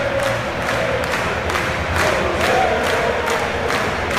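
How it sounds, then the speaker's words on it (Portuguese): A stadium crowd in the football video game PES 2018 on PS2, during a Borussia versus Mainz 05 match, cheers with a steady, loud roar and rhythmic swells of chanting, with no talk over it. "A torcida do Borussia vibra."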